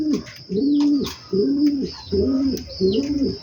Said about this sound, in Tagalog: Kita nyo guys yung mga alaga nating ibon.